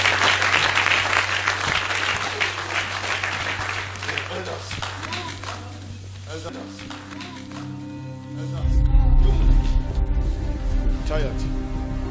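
A church congregation at a Friday all-night service applauding together, a dense continuous wash of clapping that carries under a sustained musical tone and swells louder toward the end.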